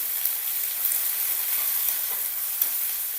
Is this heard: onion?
yes